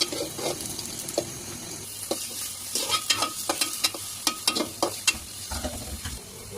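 Dried hilsa fish stirred and cooking in a pan, with soft sizzling under a run of sharp spatula scrapes and clinks that grow more frequent toward the end, close and fairly loud.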